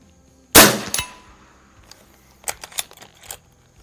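A pellet from a 9mm lever-action PCP air rifle strikes a steel plate at about 50 yards, giving one loud, ringing metallic clang that fades, followed by a few faint clicks.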